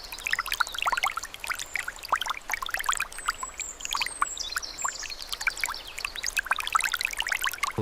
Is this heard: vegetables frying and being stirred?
no